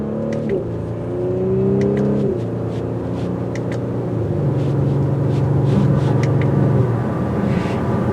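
A loud twin-turbo engine in a 2022 Audi SQ5 SUV revs and pulls hard as it accelerates, its pitch climbing and dropping through gear changes with a smooth, steady roar.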